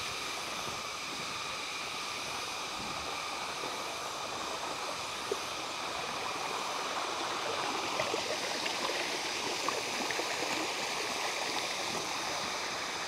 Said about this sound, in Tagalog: Ito yung pangalawa na mini falls.